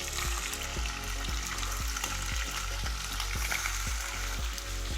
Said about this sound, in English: And then you start frying your meat just to brown them